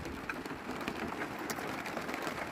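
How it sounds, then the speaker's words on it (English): Rain falls outdoors near a greenhouse as a faint, steady hiss, with scattered soft drop ticks and no voices. "now it's really starting to rain"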